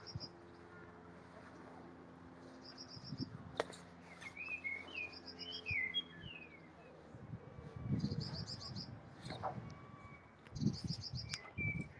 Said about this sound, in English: Hopefully you can hear the birds.